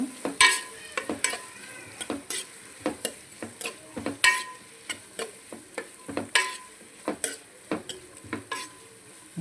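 Onions for a green egg curry frying in a pan, a soft sizzle under repeated close, crisp scrapes and taps of a spatula stirring in an uneven rhythm, fairly quiet, with no talk.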